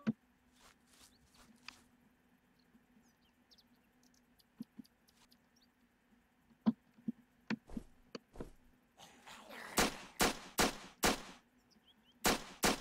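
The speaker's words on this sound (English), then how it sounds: "I just shot five zombies in the face" Gunfire against zombies in the Roblox game Apocalypse Rising, starting as a few sparse, faint shots and building to a close, loud run of rapid repeated bangs toward the end, with no talking.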